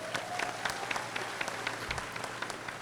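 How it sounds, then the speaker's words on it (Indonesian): Audience applause at an Islamic talk, a moderate and steady spread of clapping from a crowd heard at mid distance, holding evenly throughout with no talk over it. "Tepuk tangan untuk Real Food."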